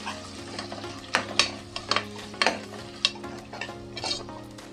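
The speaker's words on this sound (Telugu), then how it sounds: "అల్లం పేస్ట్ వేసుకుని పచ్చివాసన పోయేదాకా మగ్గించుకున్నాం" Ginger paste cooks in a pan for a potato and tomato curry, a soft steady sizzle broken by a series of sharp stirring scrapes against the pan, close and fairly quiet.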